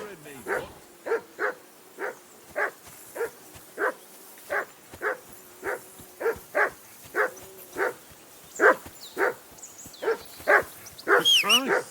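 Repeated dog barks from a hound in the Kingdom Come Deliverance II game, a steady rhythmic series of sharp yelps about twice a second, growing busier and more excited toward the end, with faint voices in the background.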